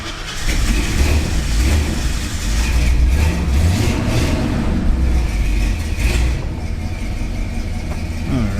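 A cold turbocharged Ford F100 engine runs steadily at idle after starting, a loud, continuous low rumble with slight swells in revs and no talk over it.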